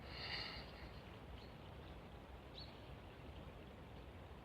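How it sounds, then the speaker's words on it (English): A river flows past the bank where someone sits for tea, a faint, steady broadband rush of water that stays even throughout with no other clear sounds. "You can hear the lovely sound of the river."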